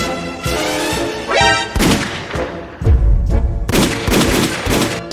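Loud gunshots and crashing impacts in a dubbed Jojo-style anime scene, several sharp bursts separated by short gaps, with a heavy boom near the middle.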